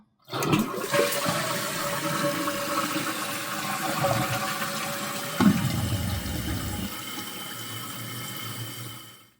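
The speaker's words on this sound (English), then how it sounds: "We're going to flush the toilet and see if it refills to the same level." A toilet flushes and its tank refills after a fill valve replacement: a loud rushing flush, then a steady hissing stream of water refilling that continues for several seconds before cutting off, heard up close with no talking.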